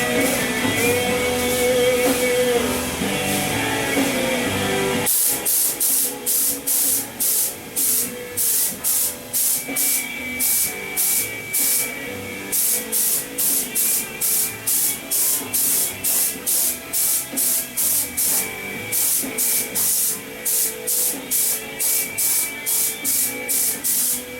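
Spray gun applying primer to a BMW 2002 body: a loud, close hiss in regular short bursts, each pull of the trigger separated by brief pauses, following a quieter stretch of shop noise.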